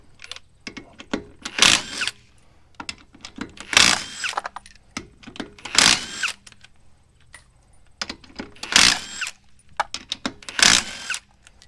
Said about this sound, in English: So to take off the wheel, 22 millimeter